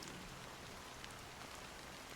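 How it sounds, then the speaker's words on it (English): Rain falls in Honkai: Star Rail's Penacony, a constant, uniform wash of fine droplets with no voices, holding the same level from start to finish. "it's still raining."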